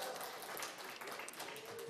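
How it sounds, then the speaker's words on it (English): Faint applause from a polka concert audience, a soft, steady patter of many hands clapping for about two seconds with no voices on top. "Give yourselves a nice round of applause."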